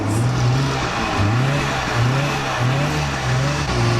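A Goggomobil's small two-stroke engine at Summernats runs steadily, buzzing and rising and falling in repeated rev blips, loud and close with no talk over it.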